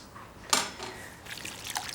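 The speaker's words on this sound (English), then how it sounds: "I'm going to pour the rest now." Fruit juice for a pink jelly poured and trickling from a vessel in a kitchen, a brief splash at the start followed by a soft, uneven dribble, fairly quiet and close.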